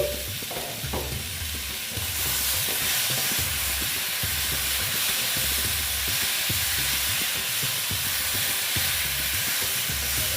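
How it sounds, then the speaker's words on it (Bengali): Pumpkin curry sautéed slowly in a pan, with a steady close sizzle and frying hiss running throughout, plus faint stirring scrapes and low clatter, no voices. "একটু আস্তে আস্তে আমি কষিয়ে নিচ্ছি"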